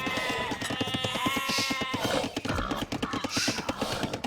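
Sheep bleat in an Age of Empires II match, short game-style bleats repeating over a busy, steady mix of in-game effects and ambient sounds.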